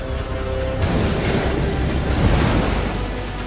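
Loud Atlantic Ocean surf off the southwest coast of Ireland, churning waves and strong wind roaring in a dense continuous wash, close and unbroken, with no voices.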